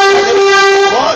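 A car horn on a one-way street sounds one loud, sustained blast lasting about a second, close by and alone.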